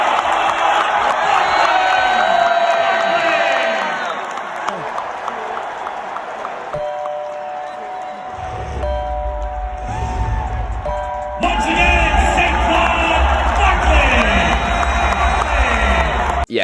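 Philly crowd cheering at a Sixers season opener in an arena, loud sustained roar and applause that dips midway and swells again, with a voice talking over parts of it.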